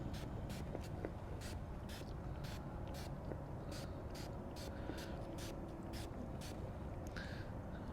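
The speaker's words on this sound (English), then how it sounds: "You simply spray it on." Wax remover is sprayed onto plastic car trim in short, repeated bursts. The brief hissing puffs come in an uneven rhythm over a faint, rumbling background, with no talk.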